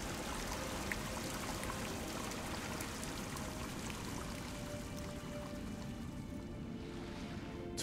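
A waterfall in the video game Guild Wars 2 rushes as a dense, steady wash of falling water that stays loud and continuous throughout, with no talk over it.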